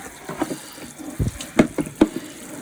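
Running tap water rinses a plastic fishing tackle tray, giving short splashy bursts and gurgles as the stream hits and drains from the compartments at close range.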